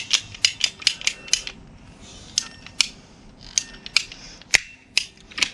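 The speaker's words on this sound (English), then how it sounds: "And then we'll still just use the pipe cutters." Pipe cutters biting through a pipe for a greenhouse build, a sharp rhythmic run of clicking ratchet snaps, fairly close and loud, with a brief pause mid-way before the clicks resume.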